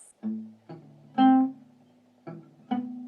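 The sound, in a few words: guitar picking individual strings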